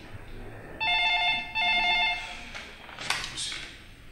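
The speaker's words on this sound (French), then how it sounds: "Ce téléphone, si je pouvais le débrancher" A telephone rings with two electronic bursts of a bright, repeating trill, each lasting under a second with a short gap between. A quieter rustle follows, with no talk over it.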